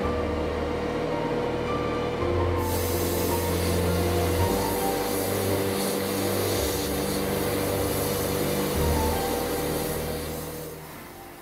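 An airbrush sprays paint onto the cockpit parts of a 1/48 Italeri Wessex UH.5 model helicopter, a steady close hiss of air that runs unbroken and alone before trailing off at the end.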